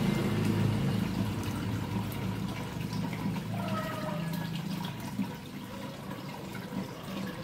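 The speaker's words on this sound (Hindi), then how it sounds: "तो ये फ्रेंड्स मैंने घड़े से बनाया है फाउंटेन को।" A homemade indoor fountain built from a clay water pot gives a continuous, gentle trickle and splash of flowing water. The sound is steady and close, with no talking.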